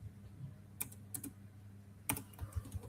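Short bursts of keystrokes on a computer keyboard as a code comment is typed, a few quick clusters of clicks with pauses between, fairly close and quiet, no talking.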